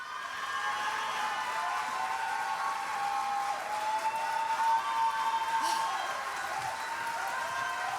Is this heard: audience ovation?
yes